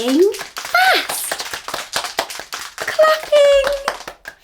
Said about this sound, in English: Clapping fast.